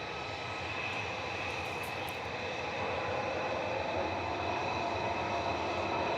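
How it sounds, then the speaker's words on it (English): Boeing 737-800 jet departing Manchester Airport, a steady loud engine roar that swells slightly as it continues, broadband and sustained with no talk over it. "This is GDRTC, Dr. TC, going off to Jerez in Spain, 737-800"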